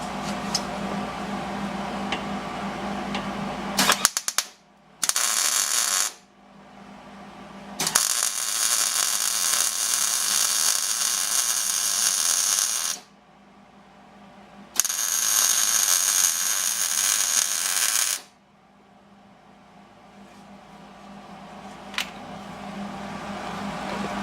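A MIG welder lays beads on subframe connectors under a 1986 Mustang GT, giving several long crackling, hissing bursts of a few seconds each, separated by pauses, loud and close with no talking.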